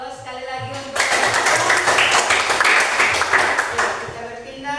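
An audience breaks into dense, sustained applause about a second in, loud and steady before easing off toward the end, after a brief voice at the start.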